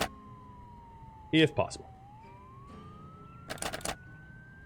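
In-game siren in Project Zomboid, a faint wavering tone running beneath the scene with brief louder noises over it, while someone talks over the game.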